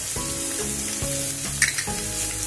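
Onion sautés in hot oil with salt for karela bhaji, a close steady sizzle punctuated by several scraping stirs of a spoon in the pan.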